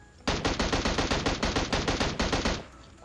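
Automatic gunfire in the mobile battle-royale game PUBG Mobile: a loud, close, steady burst of about fifteen evenly spaced shots lasting a little over two seconds, then stopping abruptly.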